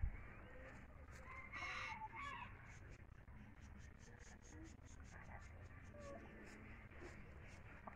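Hens cluck repeatedly around a backyard chicken-breeding pen while a rooster crows nearby, busy rhythmic clucking over a low background rumble, fairly close but quiet overall.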